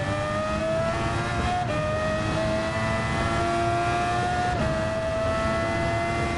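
Race car engine at Interlagos in Gran Turismo 7, a loud sustained high whine climbing steadily through the gears with two brief shift breaks, close and continuous.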